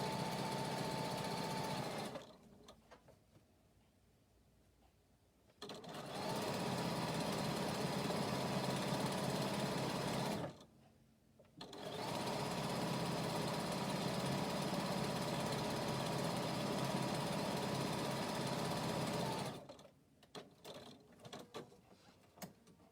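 A sewing machine runs in three sustained bursts of steady mechanical whirring, separated by short pauses, fairly quiet and with no talking.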